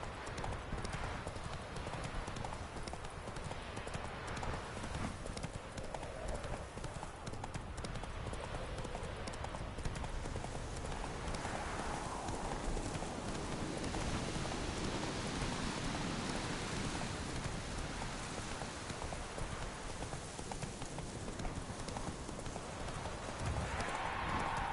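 Hooves of Roach, Geralt's horse in the video game The Witcher 3: Wild Hunt, clip-clopping in a steady riding rhythm over a soft rain-like hiss, continuous for the whole stretch.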